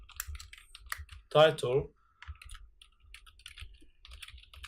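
Code is typed on a computer keyboard in rapid, irregular bursts of close, crisp key clicks, broken briefly by a short spoken phrase before the tapping resumes.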